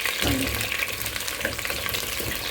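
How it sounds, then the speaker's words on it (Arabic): Onions fry in hot oil, giving a dense, steady sizzle with sputtering crackles and splatter, close and loud without pause. "البصل لانه فيه سوائل رح يطرش هيك"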